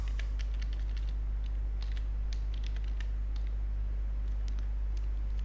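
Light clicks of typing on a computer keyboard, scattered and faint over a loud, steady low electrical hum, with no talking.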